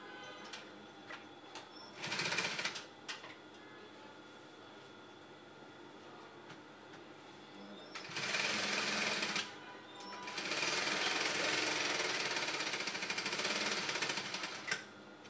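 A sewing machine stitches a Yoruba cap in short bursts: a brief run, a pause, then two longer runs of rapid close stitching over a quiet room background.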